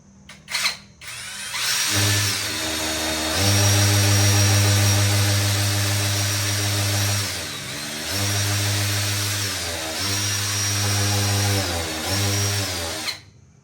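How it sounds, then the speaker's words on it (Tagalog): A power drill drives a screw into the wall while window blinds are being installed in a bedroom: loud whirring runs rise and fall in pitch, with several brief pauses between bursts before it stops. "Pag pwede na yung screw, sige, baon mo pa."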